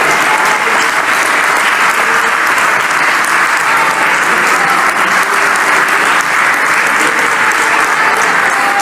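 A church congregation applauds in worship, with dense, steady clapping that stays loud and even for the whole stretch and has no gaps.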